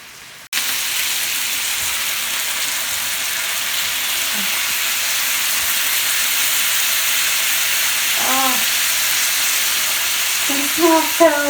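Teriyaki chicken skewers sizzle steadily in a hot pan, a continuous broadband frying hiss that starts abruptly and holds for the whole stretch, with a couple of faint clinks or brief voice fragments near the end.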